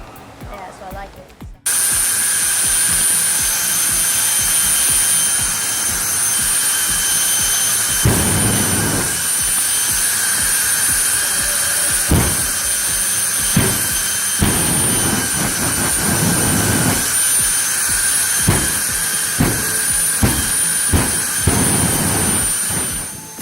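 The jet engine of the Fire Force 5 jet dragster, rated at 10,000 hp, roars loudly and steadily up close, with sharp pops and bursts erupting over the continuous blast.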